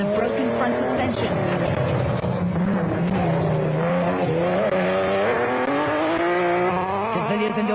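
Off-road race cars drive hard over dusty terrain during a South African off-road race, with loud engines rising and falling, gear changes and passing roars over a continuous motor drone throughout.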